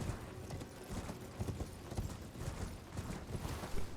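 Horse hooves clip-clop repeatedly through the Elden Ring video game, steady uneven footfalls of a galloping mount mixed with game ambience, fairly loud and continuous, with no talking.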